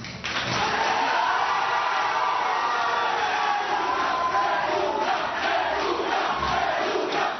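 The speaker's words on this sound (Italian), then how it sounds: "applausi e cori da stadio dentro l'aula" Courtroom crowd erupting in applause and stadium-style chanting after an acquittal, a loud, sustained roar of voices and clapping that swells and holds throughout.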